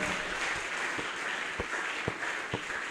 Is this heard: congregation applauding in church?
yes